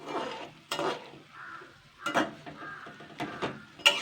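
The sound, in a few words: stirring palm fritters frying in oil with a spatula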